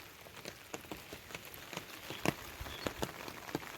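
Monsoon rain patters steadily on surfaces by a creek, with scattered sharper drops tapping irregularly through a constant soft hiss, faint and without voices.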